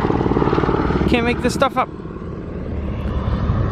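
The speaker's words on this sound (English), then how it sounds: "This helicopter is crazy." A helicopter flies over a shopping mall parking lot, its rotor and engine making a continuous, fairly loud rumbling drone. A voice speaks briefly over it partway through.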